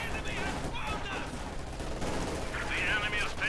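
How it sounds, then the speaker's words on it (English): Sustained MG42 machine gun fire in a Company of Heroes 2 battle, a dense continuous rattle of bursts with intermittent shouting voices over the top, loud and close throughout. "Shock troops suppressed by the MG42."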